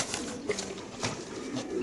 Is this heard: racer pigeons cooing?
yes